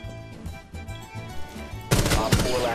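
Rapid automatic gunfire bursts out in Rainbow Six Siege, a loud close volley of shots after a quieter stretch of game ambience.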